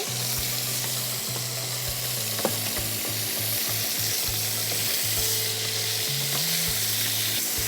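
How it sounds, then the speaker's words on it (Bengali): Chicken with spices fries loudly in a pan, a bright continuous sizzle broken by repeated spatula scrapes and knocks, with a steady low hum underneath. "আচ্ছা, চিকেনটা ভাজতে কিরকম সময় লাগবে আপু, নাকি হয়ে এসেছে?"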